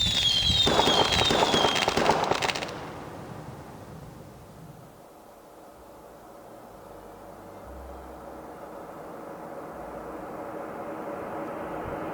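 Fireworks from a New Year animation made in Blender: a loud burst of crackling and whistling for about two seconds, then a long, low rumbling decay with hiss.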